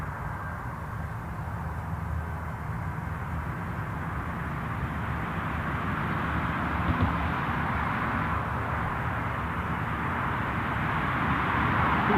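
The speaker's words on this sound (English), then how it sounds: "A320 on its way to the gate" A British Airways Airbus A320 airliner taxis to the gate at Newcastle International Airport, a steady, fairly distant engine rumble and whine holding even throughout with no other sounds over it.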